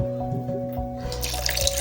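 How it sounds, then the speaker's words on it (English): Water poured into a pipe in a smart water-flow control setup, a close trickling and dripping that swells into a louder gushing splash partway through, over a steady electrical hum. "So then we put the water into the pipe."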